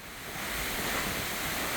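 An artificial waterfall drops tens of metres down a cliff face in Goseong. Heard from near its base, it makes a steady, dense rushing roar that builds slightly and then holds, with no voices.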